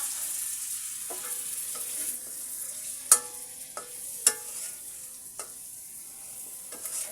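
Hilsa fish head and tail frying in a pan with salt, a steady soft sizzle punctuated by several sharp scrapes and clinks of a spatula against the pan.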